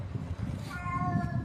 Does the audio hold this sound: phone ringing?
no